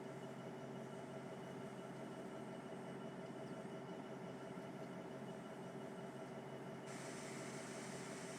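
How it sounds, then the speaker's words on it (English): A real train passes far off, a faint, steady mechanical rumble and hum that holds level throughout with no talk over it. "I'm actually hearing a train in real life."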